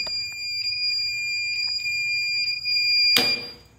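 A UPS power backup unit sounds its alarm during a power cut, a steady high-pitched electronic tone with intermittent beeps, close and loud, ending in a harsh noisy burst.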